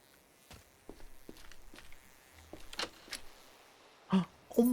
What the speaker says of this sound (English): Did I just hear a footstep to my left?